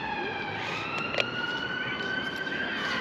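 An emergency vehicle siren wails in town, steady and fairly loud with rising and falling tones over traffic noise, and a brief clack partway through.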